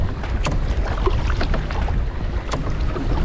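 Strong wind buffets the microphone while canoeing on open water at Narrawong, a steady low rumble with gusty roar and faint water splashes throughout, with no talking.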